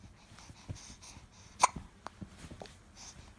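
A baby hiccups, giving one sharp little hiccup amid soft breathing and faint babbling noises, close and quiet.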